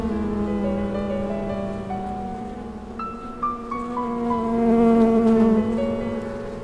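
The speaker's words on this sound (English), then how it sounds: "Honeybees are stocking up for winter too." Honeybees swarming around their nest in an oak tree in an autumn forest, a dense close buzzing drone with shifting pitches as individual bees pass near, no voices.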